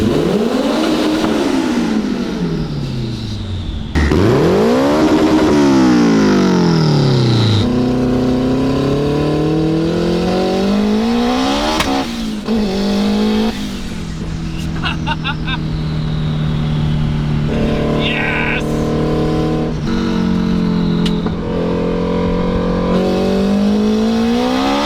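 Big turbo Honda S2000 engine pulling hard through the gears, loud rising revs that climb, cut at each shift and climb again, with turbo whine and whooshing, heard close from inside the car.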